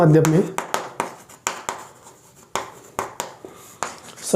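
A physics definition is written out on a classroom board in quick, sharp strokes and taps, with short bursts separated by brief pauses and a voice talking partway through.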